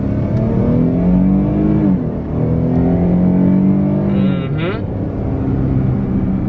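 A Dodge Charger GT accelerates hard in sport mode from inside the cabin. The engine note climbs steadily in pitch, drops briefly at a gear change around two seconds, then climbs again toward a second shift.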